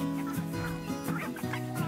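Small bantam hens and a rooster clucking in a backyard flock, several close, repeated clucks overlapping in an uneven rhythm with no talking.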